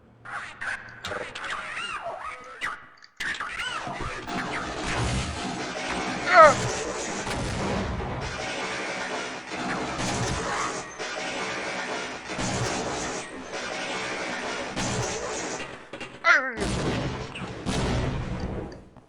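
Grenade explosions in Half-Life echo through a first-person shooter battle: repeated heavy booms and crashes rise out of steady combat noise, with a voice talking over parts of it.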